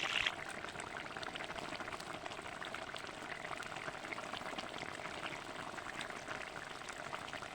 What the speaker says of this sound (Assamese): উতলিছে দেখিছেনে